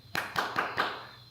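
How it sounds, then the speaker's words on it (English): Four quick hand claps in an even rhythm, close and fairly soft, each a sharp isolated slap with brief quiet between. "Clapping my hands."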